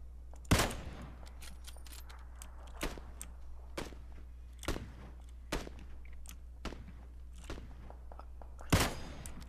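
Gunfire in a shooter video game: sharp, isolated shots crack out one at a time at irregular intervals, with a steady low hum running underneath throughout.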